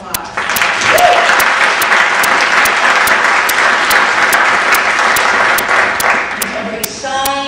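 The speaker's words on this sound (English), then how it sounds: "let's give them a round of applause" Audience applause at a campus event on gender communication, dense sustained clapping from a crowd lasting several seconds, with brief voices underneath toward the end.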